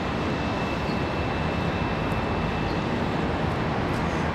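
An American Airlines ERJ regional jet departs Charlotte Douglas airport, a steady, fairly distant broadband jet roar with a thin high whine running throughout.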